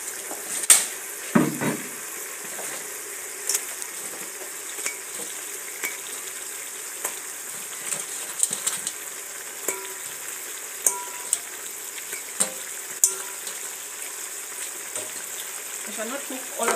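Food pieces deep frying in hot oil over a village cooking fire in Africa, a steady close sizzle and crackle running throughout with occasional clinks of a pot and utensils.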